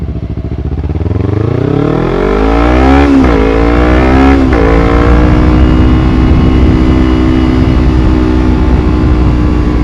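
A loud 2012 Kawasaki Ninja 250 motorcycle with a Two Brothers aftermarket exhaust revs up sharply twice, its throaty exhaust rising in pitch, then settles into a steady, rumbling idle close by.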